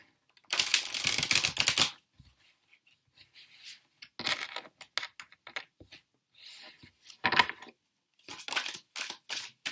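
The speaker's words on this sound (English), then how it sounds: "Okay, I'm just going to do a shuffle." Tarot cards shuffled by hand in close, crisp bursts of riffling and flicking, a long run at the start followed by several shorter, separated shuffles.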